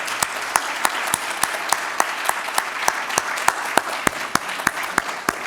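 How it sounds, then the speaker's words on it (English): Applause from a gallery audience welcomes special guest Bev Gibson at an exhibition in Rochester: a steady wash of many hands with a few loud, sharp claps cutting through at a fairly even pace. "If we could just give her a round of applause as our special guest"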